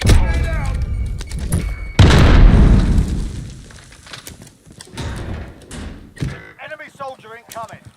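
Grenade explosion in Modern Warfare on Rebirth Island, a single loud close boom about two seconds in that rumbles and fades, amid game voice callouts and chatter.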